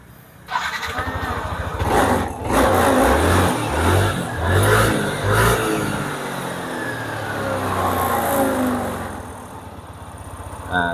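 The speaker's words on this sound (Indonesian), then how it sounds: "Nah ini motor sudah bisa dihidupkan." A Yamaha NMAX motor scooter engine starts with a sputter and then runs at a steady idle nearby, with a few throttle blips swelling the sound before it settles.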